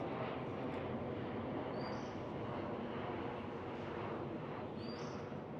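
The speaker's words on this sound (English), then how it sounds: "There goes another plane. Be prepared for planes." An airplane passes overhead as a broad, steady roar that holds loud throughout, masking quieter background sounds.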